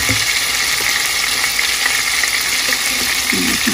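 Beef gola kebab fries in a pan of hot oil with a loud, continuous sizzle and crackle and occasional small pops, steady throughout.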